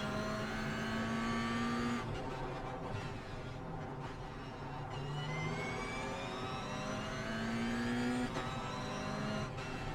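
Race car engines in the iRacing simulator at Long Beach, with a quicker car passing: steady loud engine drone with rising, shifting gear pitches as cars accelerate, no talking.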